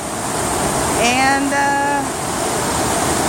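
At the top of a waterfall, a continuous broad roar of rushing water fills the scene, and a person's voice briefly rises above it partway through.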